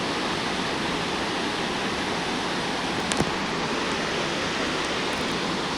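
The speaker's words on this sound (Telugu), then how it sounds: "So that is the river actually." River water flowing down from a waterfall in Old Manali roars as a dense, constant rush, loud and unbroken from start to finish.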